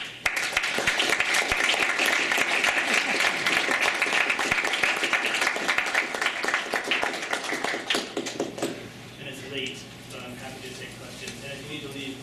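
Audience applause at the close of a talk on deep learning and neural network visualization, a steady dense clapping that fills the room for about eight seconds before thinning into a few scattered claps and quiet.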